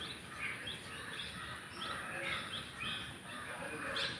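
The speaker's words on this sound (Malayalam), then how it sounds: "കാക്കച്ചികളെ ബഹളം ഉണ്ടാക്കുന്നു കേട്ടോ" Birds call repeatedly in the background outdoors, short harsh chirps and caws from crows scattered over a steady ambient hiss, moderately faint with no speech.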